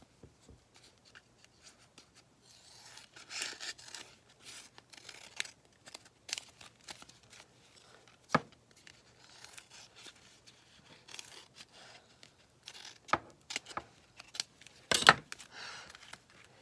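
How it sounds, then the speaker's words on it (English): Scissors trim a paper accordion waterfall tag, giving quiet, scattered snips and paper rustles with a few sharper cuts near the end, close and faint in a quiet room. "right now I'm going to go ahead and trim this off"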